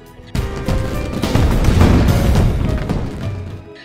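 Anime festival fireworks: a sustained wash of booming, crackling bursts that builds and rolls on for several seconds, dense and fairly loud, with no voices over it.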